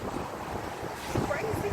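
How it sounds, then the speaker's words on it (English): Strong wind blows outdoors on a warm, open day, buffeting the microphone with a steady, loud low rumble and gusty roar that continues unbroken through the short stretch. "It's beautiful, but it's awful windy."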